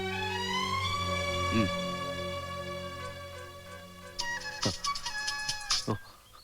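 A phone rings in a Tamil film scene with a steady melodic ringtone at moderate level, followed by a burst of sharper tones and clatter toward the end.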